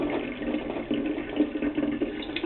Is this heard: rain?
no